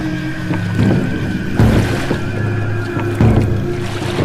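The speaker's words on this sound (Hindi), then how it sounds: "तभी पानी की कलकल की आवाज आनी शुरू हुई।" Steady water sloshing and gurgling against a boat hull, with low rumbling swells rising and falling, close and fairly loud, no talking.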